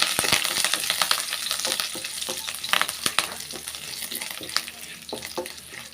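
Curry leaves and dried red chillies hitting hot tempering oil for a ridge gourd pachadi, a loud, close, crackling sizzle with rapid spits and pops throughout, gradually settling slightly toward the end.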